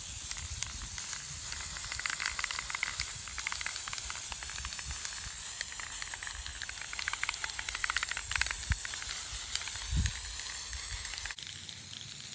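A continuous, steady hiss of acrylic paint sprayed for over ten seconds, with faint bumps and shuffling beneath, then stopping abruptly.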